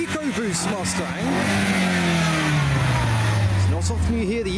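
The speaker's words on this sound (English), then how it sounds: "It's not often you hear the EcoBoost rev." A Ford Mustang EcoBoost engine revs up close and loud, then the pitch sweeps slowly down as the revs fall away, with another short blip of throttle near the end.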